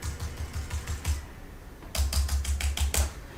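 Laptop keys are tapped in quick rhythmic runs, close and distinct, with a short pause before a second, louder burst of clicking keystrokes.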